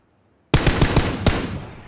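Automatic gunfire in the PUBG video game, a sudden rapid burst of roughly eight loud close shots in about a second and a half, starting abruptly after near silence and fading slightly at the end.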